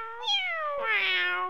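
A cat gives two clear, drawn-out meows one after the other, close and loud with no other sound around them.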